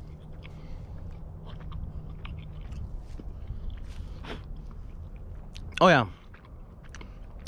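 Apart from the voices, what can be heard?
chewing a milk chocolate bar with cherries and anise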